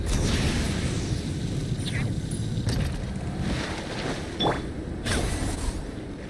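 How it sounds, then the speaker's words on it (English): Boat engines revving in the Genshin Impact video game, a loud rushing mechanical roar with whooshing swells and a few sharp bursts, mixed with wind-like noise over six seconds. "Rev the engines!"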